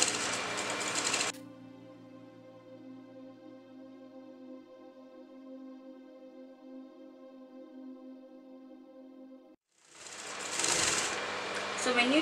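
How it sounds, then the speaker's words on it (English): A sewing machine stitches bias fabric in a steady, close whirring run of about eight seconds, with a brief burst of handling noise before it starts and again after it stops. "So I'm just sewing this to the wrong side of the fabric."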